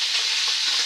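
Duck thighs sizzle and fry steadily in a hot pan, a continuous close crackling hiss with no talk over it.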